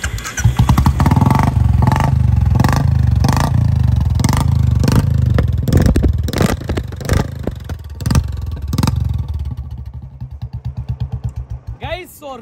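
A customized Royal Enfield Bullet engine with a modified silencer runs close and loud at a Chennai workshop, thumping in steady exhaust beats that loosen and slow toward the end, where a voice briefly cuts in.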